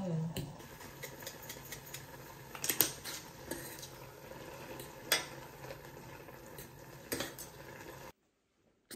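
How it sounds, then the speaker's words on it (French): Cooked instant pasta with spices being stirred in a pot, giving soft scraping, clinking and sizzling strokes that keep going for about eight seconds before silence. "Alors attendez, je vais mélanger parce que j'ai mis les épices là."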